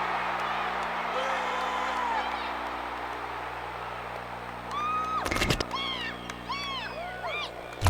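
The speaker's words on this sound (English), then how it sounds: "Rivers can hear the crowd in the end zone seats from this starting field position" Stadium crowd in Madden NFL 12 roars and cheers from the end zone seats during a Panthers vs. Chargers game, a steady crowd wash with whoops and rising cheers over a low hum, joined by a burst of noise near the end.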